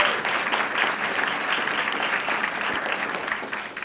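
Steady, dense applause from an audience at a university achievement awards ceremony, honoring two conservatory musicians; continuous clapping fills the whole stretch at an even, fairly loud level with no talk over it.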